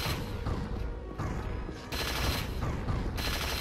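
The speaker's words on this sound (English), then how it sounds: "So open fire on him." Weapon fire in the first-person shooter Unreal: Return to Na Pali, against an enemy trooper in a valley level: loud, dense bursts of rapid shots and blasts filling the whole moment, with no talking.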